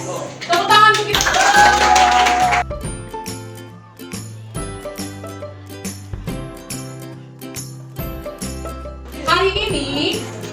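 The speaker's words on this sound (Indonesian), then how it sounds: "Tepuk tangan untuk kita." A class of students in an Indonesian classroom claps together in two bursts, a brisk volley at the start and another near the end, with quieter tapping and pauses between.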